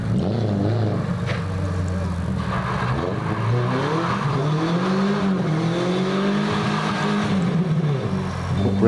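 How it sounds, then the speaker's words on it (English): A hillclimb race car is driven hard through a tight corner, its engine droning loud and close, then dipping and rising in pitch as it brakes and powers out of the bend. "Marcus Brand is pushing around that tight corner there now."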